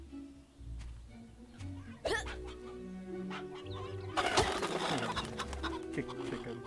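Chickens clucking in the video game Fable Anniversary, with short, scattered clucks and squawks. A denser burst of fowl noise comes partway through, over a low, faint music bed.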